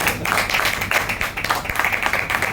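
An audience at a spiritual talk clapping while standing, a close crowd of hands beating in uneven bursts with a loose pulsing rhythm and no speech over it.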